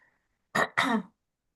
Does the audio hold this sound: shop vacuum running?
no